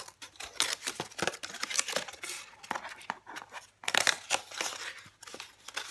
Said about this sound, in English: you just cut those shapes out very carefully with your scissors